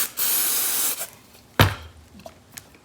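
Penetrating lubricant sprayed onto a gummy 1926 Oakland carburetor in a long, steady close hiss lasting nearly a second, followed by a sharp knock and a few lighter clicks and taps.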